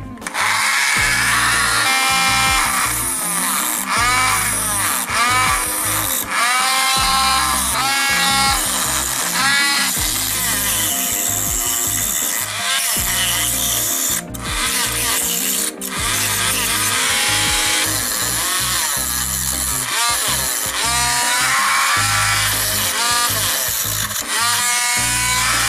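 A rotary cutter blade bites into a seashell with a loud, continuous high whine and grinding that waver in pitch as it cuts, steady for the whole stretch.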